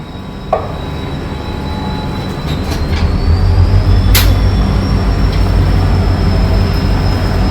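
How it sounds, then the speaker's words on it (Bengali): The Puri–Shalimar weekly superfast express, train 12888, pulls out of a station platform. A low rolling rumble builds steadily and stays loud, with a sharp click near the start and a thin high whine running through it. "128 88 পুরী শালিমার সাপ্তাহিক এক্সপ্রেস বলতে বলতে আমাদের ট্রেন ছেড়ে দিল"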